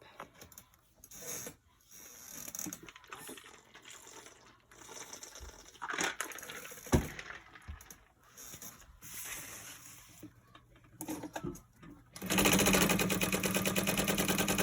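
A sewing machine stitches a crossbody bag about an eighth of an inch from its bottom edge, with irregular bursts of stitching and handling noise, then a steady, louder whirring run near the end.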